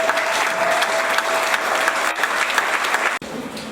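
A church congregation applauds and cheers loudly in a steady, dense wash of clapping that cuts off abruptly near the end.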